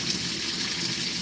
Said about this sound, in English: The water is going through and it's not putting this flame out.